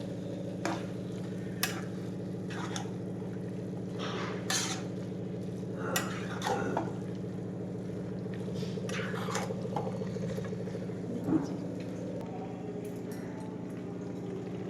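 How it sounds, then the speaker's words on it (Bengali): Carrot halwa being stirred in a pan, with soft scraping and clinking of a spoon against metal at irregular intervals over a steady low background hum. "এটা ভালো করে নাড়িয়ে আবার আমি ঢাকা দিয়ে দেবো।"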